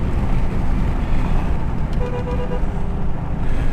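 A 2017 Dodge Daytona 392 spinning its wheels on a 0-60 launch: a loud, continuous roar of engine and tire noise held close for several seconds without letup.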